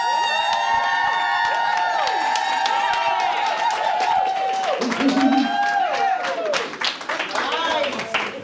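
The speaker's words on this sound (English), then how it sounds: "give Denise a round of applause for putting this event together" Audience at a Las Vegas mastermind event applauds and cheers for an organiser, with dense clapping and crowd shouts mixed with whoops and voices, steady and loud before tapering near the end.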